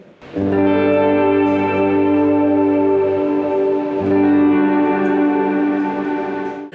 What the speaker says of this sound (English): So a shorter decay means that your reverb effect isn't very long.